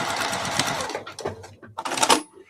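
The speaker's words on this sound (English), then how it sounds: "So I have stitched all the way down over through all 5 of those layers." A sewing machine stitches through five layers of a pillowcase, a close steady mechanical whir for about a second before it stops and restarts in short bursts.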